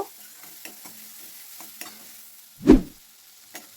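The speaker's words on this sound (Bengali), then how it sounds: "টমেটোটাকে একটু দিয়ে ভালো করে একটু মানে তেলের মধ্যে একটু ভেজে নিতে হবে" Tomatoes with salt and turmeric are being fried and stirred in oil, making a soft sizzle with a few light scrapes of the spoon and one louder clunk near the end, close and without voices.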